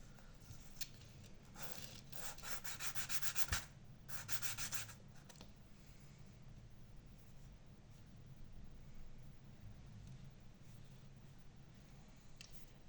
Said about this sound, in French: je prends mes pièces et je commence à les poncer